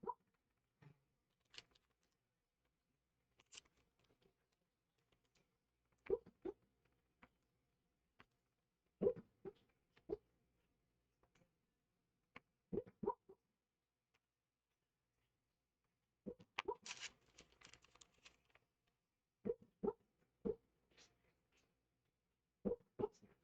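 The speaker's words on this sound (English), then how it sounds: "Miss Katai, she's a barking away in her dream" A sleeping dog barks softly and whimpers while dreaming, faint muffled yips and huffs in scattered short clusters separated by quiet gaps.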